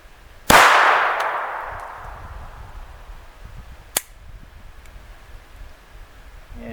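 A single sharp report from a Walther P22 .22 pistol fired at a target from about seven yards, loud and close with a long ringing decay, followed a few seconds later by a fainter click, with no voices.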